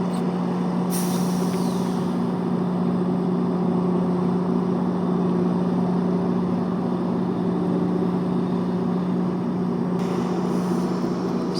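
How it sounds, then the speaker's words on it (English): GO Transit commuter train with an MP40 locomotive reversing at a station, a steady low rumbling engine drone with a sustained hum, loud and constant throughout, with brief hissing bursts near the start and end. "sorry, the train is reversing back."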